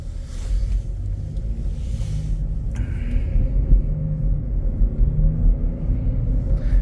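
A 2021 Chevrolet Blazer LT SUV with a V6 and all-wheel drive accelerates, its engine giving a steady low rumble and throb with a rising hum from about midway, heard close and without talk.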